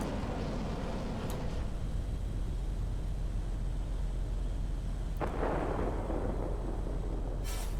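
Heavy guns fire from a Russian RB-17 Tier VIII bomber in a video game, sounding as dull distant booms. A few sharper blasts rise over a steady low engine rumble, and no voice is heard.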